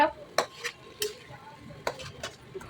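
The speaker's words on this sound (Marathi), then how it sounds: "नंतर मी कढईमध्ये सर्व अशा प्रकारे हलवायला घेतलं" A utensil scrapes and clinks against a metal wok several times at an uneven pace while jaggery lapshi with ghee and coconut is stirred, with no talking.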